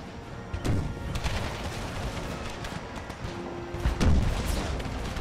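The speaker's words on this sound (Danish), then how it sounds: "Ja, I står og bliver skudt ned af kanoner." Cannon fire in Empire: Total War's American Civil War mod, with deep booms landing over a dense, rumbling battle din, two heavier blasts standing out amid steady background gunfire and no voices.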